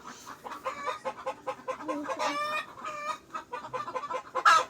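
Chickens cluck close by in a steady run of short, bright calls, with a few louder, sharper squawks standing out near the end.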